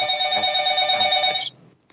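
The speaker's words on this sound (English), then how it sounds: "That was my extension phone down here in the basement." An extension phone rings in a basement, a bright electronic trill repeating steadily for about a second and a half before cutting off into near silence.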